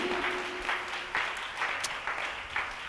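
A church congregation at a Tamil Sunday service claps steadily, moderately loud, with a faint voice briefly audible at the start.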